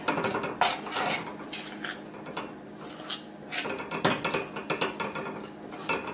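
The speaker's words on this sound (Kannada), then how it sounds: "ಹಿಟ್ಟನ್ನು ಹಾಕಿ ಇವಾಗ ಚೆನ್ನಾಗಿ ಮಿಕ್ಸ್ ಮಾಡಿಬಿಡ್ಬೇಕು." Flour being stirred into hot jaggery syrup in a pan for tambittu, with busy scraping and clinking of a metal spoon against the pan throughout, close and fairly loud.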